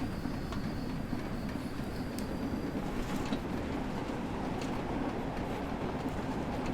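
A train passes in Train Sim World 2 during a harsh winter route, a steady loud rumble with clickety-clack rail noise carrying on without a break, no talk over it.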